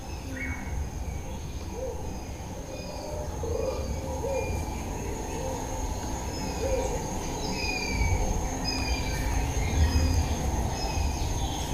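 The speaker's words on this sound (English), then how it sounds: "I was hearing sounds of the dawn chorus in these trees." A dawn chorus of birds in trees about a kilometre away, recorded in surround sound: many faint, scattered chirps and short whistles over a steady low rumble, with no voices.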